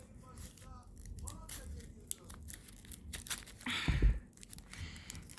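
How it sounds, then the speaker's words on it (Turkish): A blade slicing and tearing through a cardboard box close by, with scraping rips and crinkles across several seconds and a louder tear near the end, while a person talks over it. "İnşallah kutuyu keseceğim."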